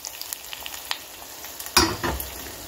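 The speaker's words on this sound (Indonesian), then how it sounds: "Dan ini aku mau goreng ayam." Chicken drops into hot oil in a pan and sizzles, a sharp burst of crackling after scattered small pops, continuing close and fairly quiet.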